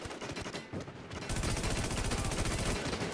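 Rapid automatic gunfire from a shooting video game, a sparser burst of shots giving way after about a second to a loud, continuous rattling stream of fire that runs to the end.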